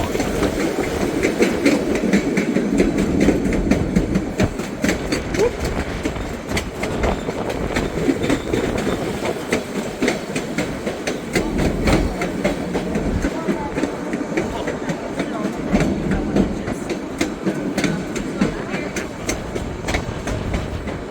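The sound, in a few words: train ride, rail cars clattering on track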